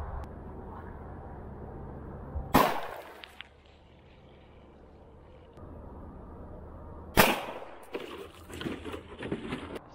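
A Taurus Judge revolver loaded with .410 steel-plated shotgun shells fires two loud, sharp blasts about five seconds apart, each followed by a brief ringing decay over a low outdoor background.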